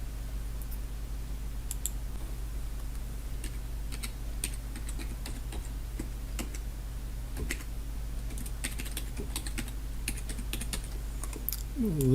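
Fingers type login credentials on a computer keyboard, a quick irregular run of light key clicks over a steady low electrical hum, close and fairly quiet.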